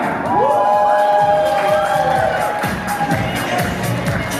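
Cheering crowd at a Russian event unveiling a spring magazine cover, loud and sustained with whoops and shouts layered over one another throughout, near and continuous.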